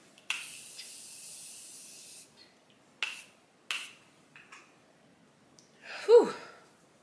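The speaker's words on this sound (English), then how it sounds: "Now, let's just spray." Aerosol spray hisses in a steady burst of about two seconds, followed by a few shorter spritzes; a voice exhales near the end.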